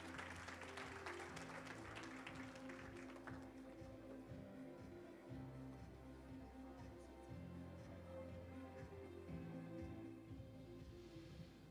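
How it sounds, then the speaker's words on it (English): A ceremony audience at the opening of the 4th Hong Kong International Innovation and Technology Expo bursts into applause to welcome a keynote speaker; the clapping is strongest at first, then fades under steady background music. "a round of applause to welcome Dr."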